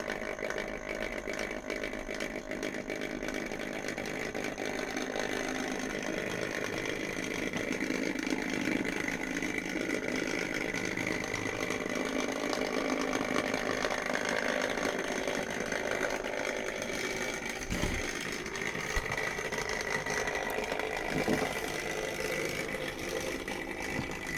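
A Triang Hornby 'Flying Scotsman' model locomotive runs with a continuous buzzing motor whine, steady and fairly loud throughout.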